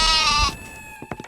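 A goat gives one loud, close, wavering bleat that breaks off after about half a second, followed by a few faint scattered knocks.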